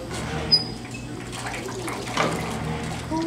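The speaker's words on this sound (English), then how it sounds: "And that squishes the water out." A hand-cranked clothes wringer squeezes water out of laundry, giving wet squishing, trickling and splashing sounds with a few louder surges, with no talking.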